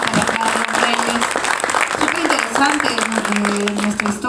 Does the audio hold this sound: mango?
no